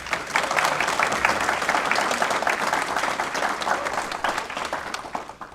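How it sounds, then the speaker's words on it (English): An audience at a county school board meeting applauds to honour a middle school staff member. The clapping is sustained and fairly full, holding steady for several seconds before tapering off at the end. "Please give him a round of applause."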